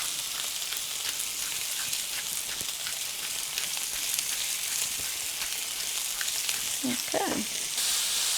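Zucchini tortitas sizzle and fry steadily in a pan for authentic Mexican tortitas de calabacita, a constant crackling hiss with a brief spoken word near the end.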